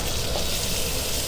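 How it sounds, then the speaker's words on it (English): Chicken pieces sizzle while frying in butter in a hot pan, a dense, steady crackling hiss that stays loud and close for a brief moment, with no talking. "When you hear the sizzle sound, once you put the chicken in, you know your pan is hot enough"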